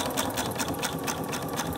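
Domestic sewing machine stitching concave and convex curved quilt pieces, needle down and fabric guided along the presser foot edge; a steady, close, continuous mechanical whir with rapid needle rhythm and no talking.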